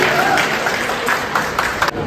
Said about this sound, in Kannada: ಕೇಸರಿಗೆ ಒಂದು ಜೋರಾದ ಚಪ್ಪಾಳೆ ಕೊಡಿ.